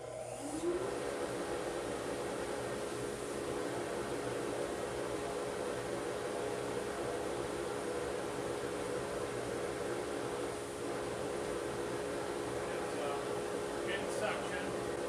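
A modified Harbor Freight dust collector runs with a steady, even whooshing drone of air and motor, constant at moderate level throughout with no pauses.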